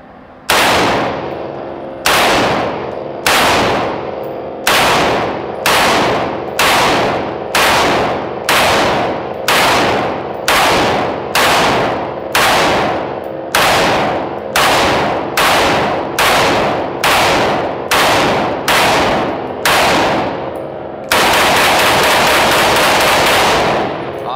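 A VZ58 rifle fires at an outdoor range in about sixteen loud, evenly spaced single shots with short ringing decays, then ends in a longer sustained burst of noise.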